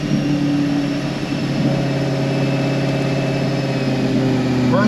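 A Chevrolet Camaro ZL1 with an RPM Stage 4 build runs on a dyno, making a loud, steady, close engine drone at constant pitch before a pull, with no voices.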